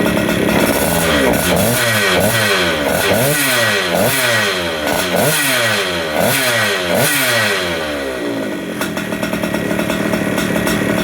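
A vintage two-stroke go-kart engine, a big-bore Atomic with a 55mm piston, light port work and an expansion pipe, runs loud and close, its revs rising and falling in repeated sweeps before settling into a rough idle.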